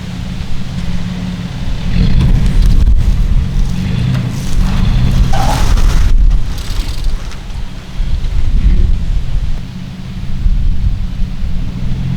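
A Camaro race car engine cranks and fires up, then runs with a loud, rough roar that surges and dips, heard close with gusty wind buffeting the microphone.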